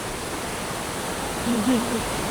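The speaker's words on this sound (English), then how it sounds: "It is splashing onto me." A waterfall in Imlil, Morocco, pouring and splashing in a loud, continuous close-up roar of broadband water noise, with a faint voice briefly murmuring underneath.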